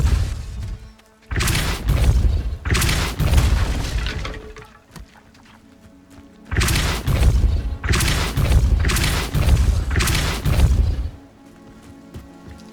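Repulsor spell impacts in Hogwarts Legacy, heard as two clusters of loud booming blasts, each with three or four heavy thuds and shattering crashes, separated by a quieter gap and close in the foreground.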